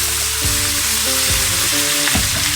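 Wagyu steak frying in butter in a cast iron skillet, a loud continuous sizzle up close with a few soft scraping and stirring sounds beneath it.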